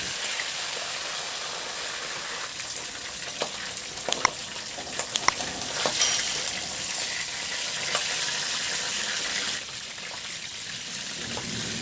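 Fish fries steadily in hot oil in a pan, a continuous close hiss with scattered small pops and crackles, no talking.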